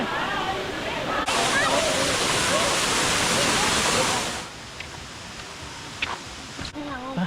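Loud, steady rush of the Erawan waterfall in Thailand fills the first few seconds, then drops to quieter flowing water with people talking over it.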